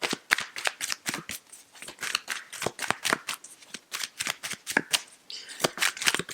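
Tarot cards being shuffled by hand in a rapid run of crisp riffling flicks and snaps, close and steady for several seconds without a spoken voice.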